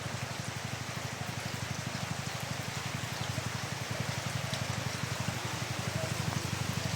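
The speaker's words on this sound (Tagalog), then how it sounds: "Ganito na talaga yung ng ulan." Heavy, steady rain pours down during flooding in Mindanao, a dense continuous hiss of drops drumming on surfaces nearby with no voices over it.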